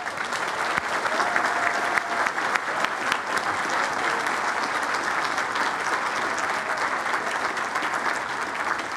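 A large audience at a Founders Day program applauds cadets with steady, dense clapping that holds at an even level throughout, sounding like a full hall.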